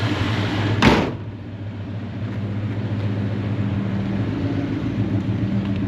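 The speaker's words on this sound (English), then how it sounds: "Let's go ahead and close the hood." The hood of a 1961 Chrysler Imperial LeBaron slammed shut, one loud sharp thump near the start, followed by a steady low idling engine rumble.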